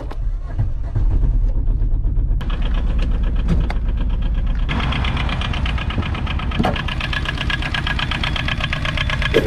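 A Kubota Z482 Euro 4 diesel engine of about 8 horsepower runs steadily in an Aixam Minauto microcar, a close, loud, knocking idle with a constant low rumble and a few sharp clicks.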